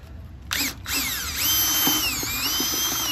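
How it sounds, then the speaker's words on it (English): A power drill fitted with a paddle churns drywall texture mud, thinned loose for a light orange peel spray. The motor whines up loudly after a brief start and holds a steady, shifting pitch close by. "If we can get the drill right."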